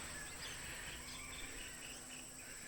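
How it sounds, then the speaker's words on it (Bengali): Crickets in a quiet forest, a steady high-pitched continuous trill with a few faint bird calls mixed in, even and unbroken throughout with no talk. "পাখির ডাক, এরপরে এটা কী কয় ঝিঝি পোকার আওয়াজ"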